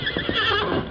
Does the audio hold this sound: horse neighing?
yes